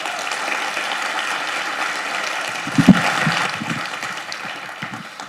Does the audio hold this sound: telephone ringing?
no